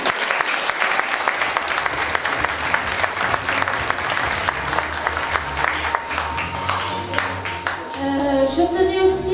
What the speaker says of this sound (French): Merci la commune, on peut les applaudir